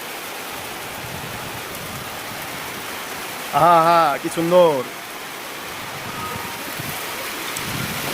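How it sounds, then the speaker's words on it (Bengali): Heavy rain roars steadily throughout a stormy, windy downpour, while a person exclaims briefly partway through. "প্রচণ্ড জোরে বৃষ্টি হচ্ছে"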